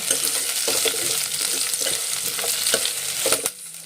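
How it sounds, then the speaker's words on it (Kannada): Onion, green chili, curry leaves and mustard seeds fry in hot oil for a tomato rasam, a loud, constant sizzle with crackles and occasional stirring scrapes, close up. "ಎಣ್ಣೆ ಹಾಕಿ ಸಾಸಿವೆ ಹಾಕಿ ಒಂದೇ ಒಂದು ಈರುಳ್ಳಿ ಖಾರಕ್ಕೆ ಹಸಿಮೆಣ್ಸಿನ್ಕಾಯಿ ಸ್ವಲ್ಪ ಕರ್ಬೇವಿನ ಸೊಪ್ಪು ಹಾಕಿ ಇಲ್ಲಿ ಫ್ರೈ ಮಾಡ್ಕೋತಾ ಇದ್ದೀನಿ"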